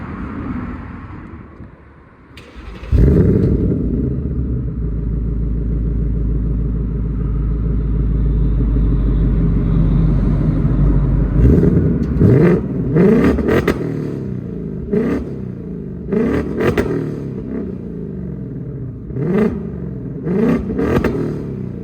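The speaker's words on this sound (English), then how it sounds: "give you some exhaust clips, and then we'll do a little acceleration video" A loud Ford Mustang (S650) exhaust starts up and idles with a deep rumble, then is revved repeatedly in sharp bursts, close by.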